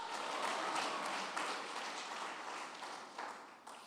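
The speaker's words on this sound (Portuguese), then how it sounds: "As palmas para ele." Applause from a church congregation during a Portuguese-language sermon, a steady, dense wash of clapping held at a distance for a few seconds.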